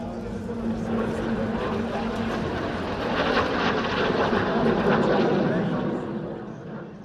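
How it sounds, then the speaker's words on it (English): A Soko G-2 Galeb classic jet trainer flies at an airshow in Romania, a sustained jet roar that swells and fades slightly as it passes, moderately distant. "Here we see a rare classic jet trainer, the G2 Galeb from Serbia."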